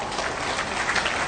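An audience at a government appointment-letter ceremony in Jharkhand gives a short round of dense, even clapping at moderate loudness.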